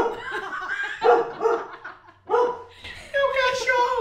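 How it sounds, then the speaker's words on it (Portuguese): A dog barks a few times in a home during a Portuguese conversation, its short yelps mixed in with the speech and some laughter nearby. "É o cachorro."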